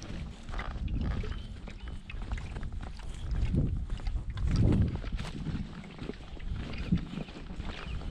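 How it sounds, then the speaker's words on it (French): Gusty north wind in the mountains buffets the microphone in low, rumbling surges that swell and fade, loudest around the middle. "De ce côté j'ai du vent. Vent du nord."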